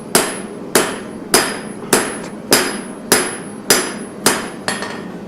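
Hammer blows forging the bevels on a roughly 5.5-inch steel chef's knife blade: eight sharp, ringing metallic strikes at a steady pace of about one every 0.6 seconds, loud and close, with no talking.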